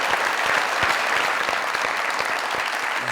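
Loud, dense applause from a studio audience at a comedy talk show, a steady roar of many clapping hands heard close and continuous throughout.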